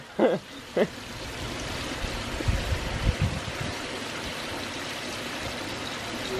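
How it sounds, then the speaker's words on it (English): Water pours over stacked slate urns and drops into a small backyard pond, a steady close trickle and splash throughout, with two brief voice bursts at the start. "Pours over, comes down, and drops over into here."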